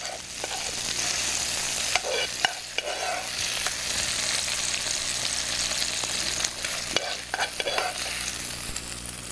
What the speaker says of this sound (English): And then we're going to add some of the sauce.